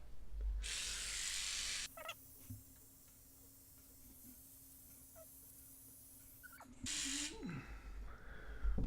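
Wahl hair clippers buzz steadily and close up during a home haircut, a loud broadband drone that cuts in and out in bursts with quieter stretches between.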